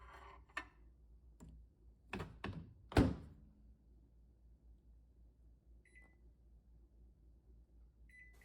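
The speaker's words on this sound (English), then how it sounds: "So we will cook the shrimp in the microwave for" A microwave oven cooking shrimp, heard as door thunks and button clicks followed by a quiet, steady hum and a few faint beeps, close by with no talk.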